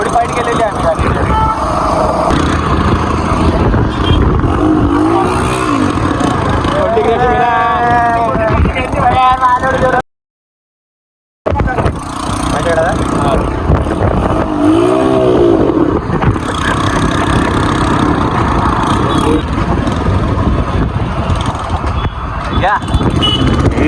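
A modified Royal Enfield Bullet motorcycle engine runs with rising and falling revs, loud and close, mixed with road noise and voices talking over it, with a brief gap of silence midway.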